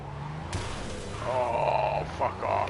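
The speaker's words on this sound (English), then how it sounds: "I'm driving in a Porsche." A Porsche driving fast in Cyberpunk 2077, engine groan with a sudden crash-like impact, then squealing tyres and revving as it spins out, loud and close with no talk.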